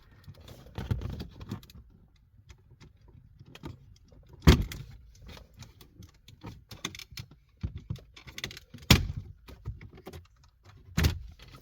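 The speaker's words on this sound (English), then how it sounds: "There's no screws holding these dashboards in. You just simply unclip it all." Plastic dashboard trim being pried and unclipped inside a 2005–2007 Jeep Grand Cherokee: scattered sharp clicks and pops with soft rattles in between, close and fairly quiet, no voices.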